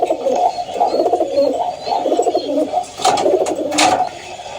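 Several male pigeons, including pure-line and army-type cocks, coo in loud, close, rolling phrases that repeat continuously, with some flutter-like noise near the end.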